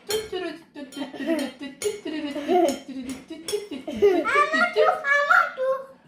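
A spoon clinking and scraping on a plate of rice and tuna, several light taps amid a child's playful speech and giggling close by.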